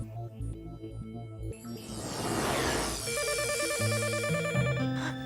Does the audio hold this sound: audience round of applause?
no